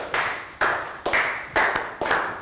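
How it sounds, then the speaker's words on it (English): Children in a classroom clap in unison during a Year 3 maths lesson, five sharp, evenly spaced bursts of synchronized hand claps, fairly close and loud, with no talking over them. "High five and clap for Prel, please."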